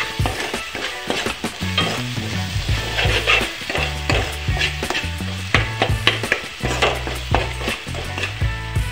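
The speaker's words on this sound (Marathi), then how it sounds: "मिरचीचं पेस्ट तयार केलं होतं मिक्सरमध्ये ते सुद्धा टाकून घेतलेलं आहे आणि चांगल्या प्रकारे मिक्स सुद्धा करून घेत आहे" Green chili paste is stirred into a sizzling frying mixture, bringing a constant crackling hiss broken by rhythmic scraping and clanking of a spoon against the pan, with no voices.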